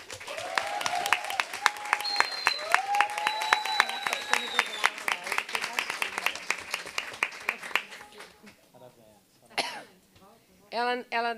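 Applause at a Rio de Janeiro state legislative session honoring doulas, with dense crisp clapping from a hall audience and a few coughs, thinning out before voices speak near the end.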